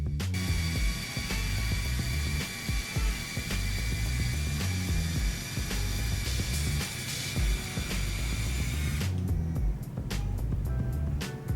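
An Instyler 2-Way Rotating Iron runs slowly through a section of hair, giving a loud, continuous whirring mechanical rattle with a steady ratcheting texture that drops away near the end.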